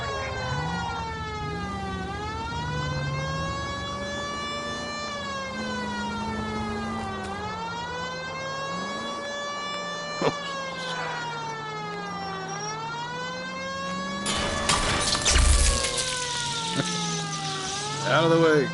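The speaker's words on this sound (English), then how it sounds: "Reach for the glowing button and use to turn on the siren." A police car siren in the VR video game L.A. Noire VR wails in long rising and falling sweeps, loud and continuous, with a brief burst of rough noise near the end.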